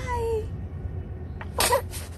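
A young child sneezes once, a short burst near the mic on an outdoor walk, after a faint whimpering voice.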